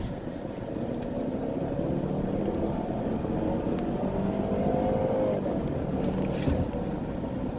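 Turbocharged 4-cylinder 2017 Ford Edge SUV accelerating from about 20 mph, heard from inside the cabin as a moderate engine drone that rises in pitch steadily under road noise.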